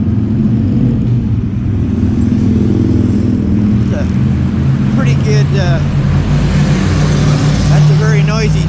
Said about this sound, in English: Pretty good sounding Harley Davidson touring bike that went by.